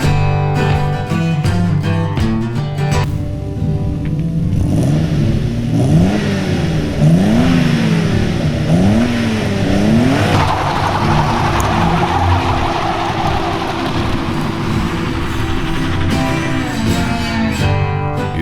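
A Maserati Biturbo 4.24v doing a burnout on twenty-year-old tyres, the engine roaring and revving in rising and falling sweeps while loud tyre squeal and hiss build and persist, close and continuous.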